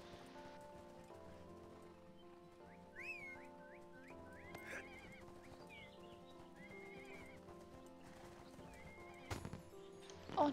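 Horse mount in the online game ArcheAge, with several whinnies and clip-clopping hooves over steady game music and soft rain ambience, plus a louder burst near the end.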